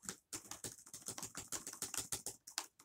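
Rapid, crisp keystrokes on a new gaming laptop's keyboard, close and clear, in an uneven typing rhythm of roughly a dozen clicks over three seconds with no talking.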